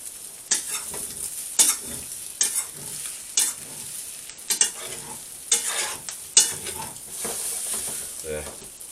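An omelette mixture of egg, chicken, Spam and potato sizzles in a pan while a spatula scrapes and stirs it in repeated short strokes, close and fairly loud.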